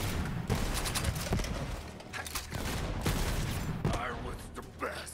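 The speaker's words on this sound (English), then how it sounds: "Poison brain gun's fun" Rapid gunfire from a poison brain gun in the video game Borderlands 3, a dense loud fusillade of shots with bursts and brief pauses, ending with small explosive pops over a busy game soundtrack.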